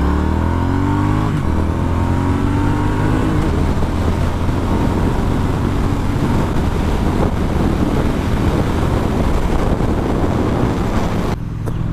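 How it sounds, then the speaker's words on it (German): A Triumph Street Twin 900cc twin-cylinder motorcycle with offset crankpins revs up, its engine pitch rising steadily at first and then holding a loud, rough drone under strong wind noise while riding. "900 Kubik, rein Zweizylinder mit einem Hubzapfenversatz. Darum hört sich der auch richtig cool an."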